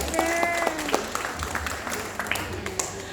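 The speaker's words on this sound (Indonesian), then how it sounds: "Boleh tepuk tangan dulu dong." An audience claps at a business motivation talk. The applause is moderate and spread out, and voices sound over it as it runs.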